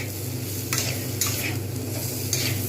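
Vegetables with ridge gourd, potato and masoor lentils sizzle and fry in a pan, a steady hiss broken by a few short scraping stirs, close and alone without any voices.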